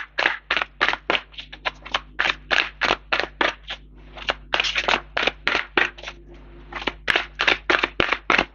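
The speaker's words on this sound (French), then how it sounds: "Je vais recouvrir les cartes." Tarot cards are handled and laid down to cover a spread, producing a steady run of crisp, close card snaps and slaps in a quiet room.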